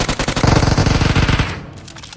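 Rapid automatic bursts from an MK rifle in PUBG Mobile, a loud, steady stream of closely spaced shots for about a second and a half before cutting off, with no talk.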